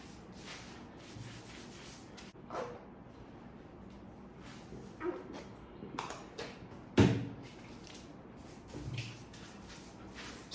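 Natural type 4B hair being washed with shampoo: soft, close rubbing and scrubbing with intermittent squelchy, wet bursts and occasional louder knocks, steady and fairly quiet throughout.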